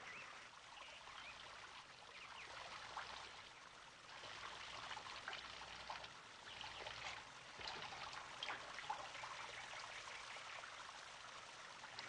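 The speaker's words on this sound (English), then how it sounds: "the water trickles out the little holes, making a small shower" Water trickles steadily out of small holes in the bottom of a vessel, a faint, continuous sprinkling patter like a small shower with no voices over it.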